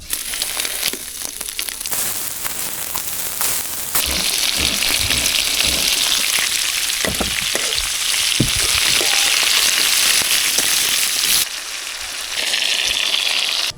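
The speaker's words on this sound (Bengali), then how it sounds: "কড়াই গরম হয়ে গেছে এবার তেল দিয়ে দেবো মাছ ভাজার জন্য" Fish fries in hot oil in a wok, a loud, dense sizzle with crackling bursts and spatter that swells and stays steady, a brief scrape of stirring partway through.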